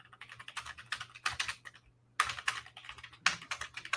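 Rapid bursts of computer keyboard typing, close and fairly loud, clustered in quick runs of keystrokes with a brief pause in the middle, alone without voices.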